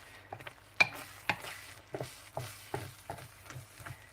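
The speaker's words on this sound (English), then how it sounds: "Now I'll add in some more of the cream. So the sauce is getting nice and thick now." A spoon stirs a cream sauce thickening in a pan, scraping in quiet, irregular strokes with a few sharper knocks against the pan over a faint low hum.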